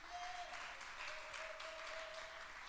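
A church congregation at a women's conference applauds and cheers in praise of the Lord, a sustained wash of clapping filling the hall at moderate volume.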